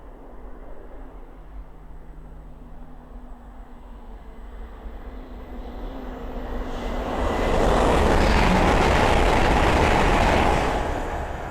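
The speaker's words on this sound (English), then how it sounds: "we have a Hull train 802 coming down, going from London King's Cross to Hull" A Hull Trains Class 802 on the East Coast Main Line, running from London King's Cross to Hull, approaches as a distant rumble that swells into a loud, broadband roar of passing wheels and motors near the end.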